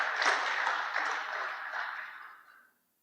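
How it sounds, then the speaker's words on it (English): A conference audience gives a brief round of applause for an award winner, a burst of clapping that swells and then fades out to silence within about three seconds. "Let's give him a nice round of applause."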